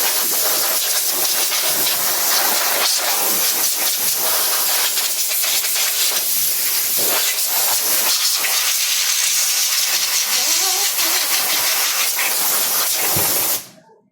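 A large exhaust fan running during repair of a Samsung Medison Accuvix A30 ultrasound machine, giving a loud, continuous broadband hiss and rush throughout that cuts off abruptly at the end.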